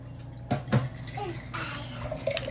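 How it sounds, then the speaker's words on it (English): Water from a reverse osmosis system runs into a container in an RV, a soft steady pour with a few louder splashes and clinks near the start, close by and moderately quiet. "And I'm filling it up with our new osmosis system from Frizz Life."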